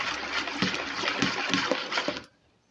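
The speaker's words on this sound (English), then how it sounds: "Then all the liquid, my orange juice, pour into it." Orange juice poured into a bowl of cake batter with vegetable oil, a steady liquid pour with small splashes that runs about two seconds and then cuts off.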